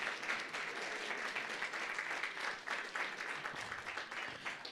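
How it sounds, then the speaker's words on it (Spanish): Strong, sustained applause from a church audience for children after their performance at a Mother's Day service, a dense steady wash of clapping throughout with no talk. "Una vez más, por favor, fuertes aplausos a los niños."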